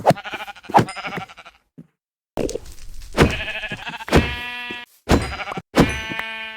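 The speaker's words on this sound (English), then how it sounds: "I will grab the sheep as a subject, as the sound is pretty noticeable with them." Repeated Minecraft sheep bleats, each a sharp, bright cry with a hit sound, in separate bursts with brief silences between.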